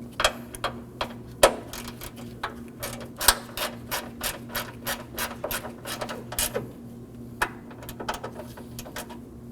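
A hand ratchet snugs a 10mm bolt on the AC condenser of a 2014-2020 Acura MDX, giving quick, close runs of sharp metallic clicks in uneven bursts over a faint steady hum.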